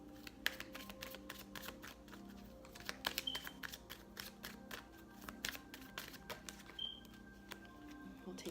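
Tarot cards are shuffled and drawn, with crisp, close riffling and flicking card sounds in irregular bursts and separate taps as individual cards are pulled and placed.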